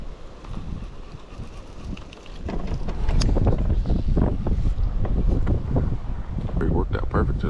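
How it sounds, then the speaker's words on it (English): Gusty wind buffets the microphone at a bass fishing spot on open water, a steady low rumble that swells louder partway through and stays strong to the end, with some faint talk in the background. "Try to position myself so this wind isn't cutting across the mic on y'all."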